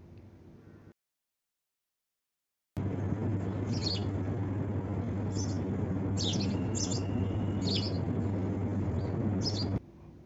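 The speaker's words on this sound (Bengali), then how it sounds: "দেখুন মা পাখিটা ছোট পাখিগুলোকে কত সুন্দর করে এখানে আধার খাওয়াচ্ছিল।" Sparrow chicks in a nest inside an air conditioner chirp in short high bursts as the mother feeds them, repeated tweets over a steady low hum, after a brief silent gap at the start.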